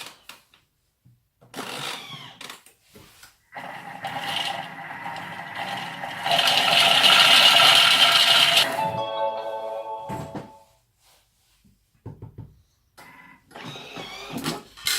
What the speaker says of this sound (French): maintenant je vais mixer 10 secondes, vitesse 10